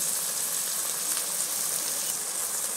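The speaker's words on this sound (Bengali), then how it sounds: "এবার মশলাটাকে ভালো করে কষাবো" Ground spices with onion paste, turmeric and chilli powders frying in hot oil for a sea crab curry, a steady, dense sizzle close by that holds evenly throughout with no talking.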